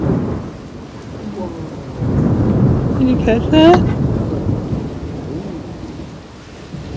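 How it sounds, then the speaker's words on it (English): A thunderstorm heard from a sailboat: steady rain hisses while thunder rolls and swells in the middle, and a person speaks briefly over it. "There's currently a lightning storm outside."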